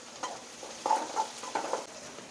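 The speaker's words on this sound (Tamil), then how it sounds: "அதையும் போட்டு வதக்கிக்கலாம்" Chopped onion and a small tomato frying in a pan, a soft steady sizzle with a few clinking spoon stirs and scrapes close by, no voices.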